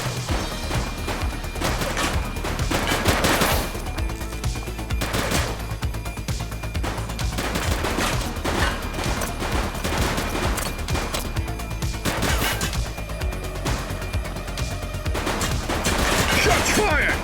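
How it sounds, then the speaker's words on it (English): Rapid bursts of video game gunfire from The Precinct, a police game, crackle continuously in dense volleys with sharp impacts and crashes, loud and close throughout. "Shots fired!"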